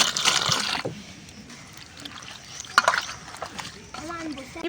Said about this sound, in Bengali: এখানে ভালো করে একটু জল দিয়ে পাতাগুলোকে একটু ধুয়ে নেব